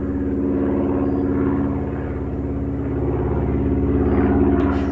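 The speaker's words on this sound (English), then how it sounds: "the sound of a plane" A plane passes overhead as a steady, loud engine drone with a low rumble and a propeller-like hum, holding constant across the whole stretch with no talk.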